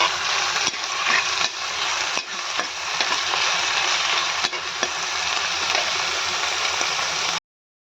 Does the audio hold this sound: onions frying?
yes